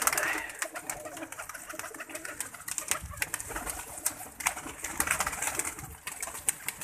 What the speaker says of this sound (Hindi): उस्तादों के घर के कबूतर होते हैं